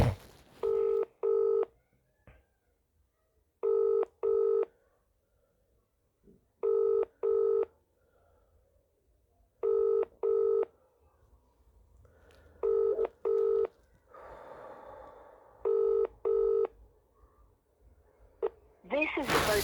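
A series of telephone keypad dialing tones plays in short paired beeps at steady intervals, clear and close, before a call reaches a mobile voicemail service; faint background noise sits between the tone bursts.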